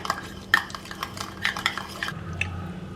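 A utensil beats a mixture with lemon juice in a bowl, giving quick clinking scrapes and taps against the sides in an uneven rhythm that fades into quieter stirring near the end.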